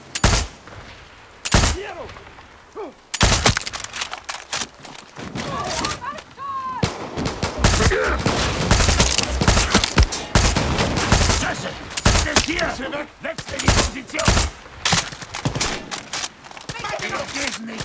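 Gunfire in Far Cry 6 erupts in dense bursts of shots and rapid automatic fire, loud and close, with thuds and breaking sounds mixed in and game voices speaking between the volleys.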